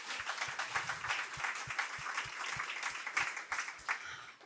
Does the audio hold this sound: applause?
yes